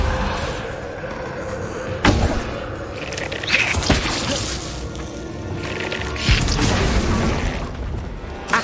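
A Depulso spell blast in Hogwarts Legacy lands as a sharp booming thud, followed by further heavy impacts and slams over a busy game-combat backdrop, with no talk.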